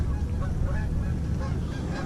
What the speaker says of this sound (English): Oh, look at all those geese.